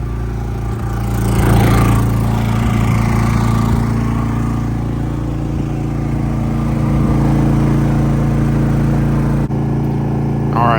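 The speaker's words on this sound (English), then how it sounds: "Generator's running. It kicked right off, no issues" A Predator 3500 generator engine running steadily up close, a loud continuous drone with a deep hum and slight rise and fall in pitch, with no voices heard.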